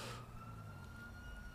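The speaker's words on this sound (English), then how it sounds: "I can still hear the sirens blaring, but I don't know whether that's the fire engine or whether that's the police car." Emergency sirens from a police car or fire engine in the video game GTA 5 wail steadily at moderate distance, layered over a low rumbling traffic bed, with no talking.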